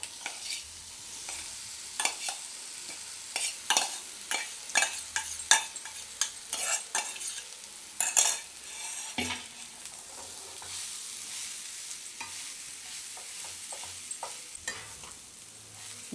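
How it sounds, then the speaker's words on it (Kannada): Beaten rice (avalakki) is stirred into a hot tempering with hing for Udupi-style gojju avalakki, giving repeated scraping strokes and a light sizzle in a steady, uneven rhythm, close up and with no talking. "ಈ ಥರ ಚೆನ್ನಾಗಿ ಸೊಗಸಾಗಿ ಸುತ್ತೂರ ಎಲ್ಲ ನಾವು ಮಿಕ್ಸ್ ಮಾಡ್ಕೊಬೇಕು"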